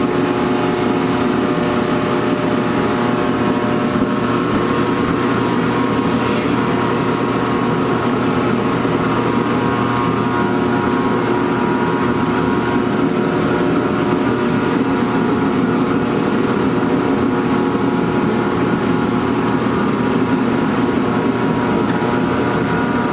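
Repaired torpedo heater with its cover on roaring at full burn, a loud, steady combustion drone with a deep fan hum and constant rumble, close and unbroken for over twenty seconds, no voices.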